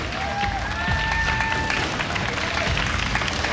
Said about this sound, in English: They clap together.